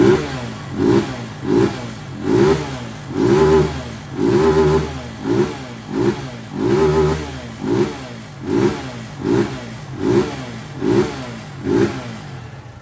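Injected Honda Fan 190 motorcycle with a modified engine (190 kit, cam, head, reworked injector) and the catalytic converter removed, revved in a steady series of about a dozen short, punchy blips returning to idle, close and loud.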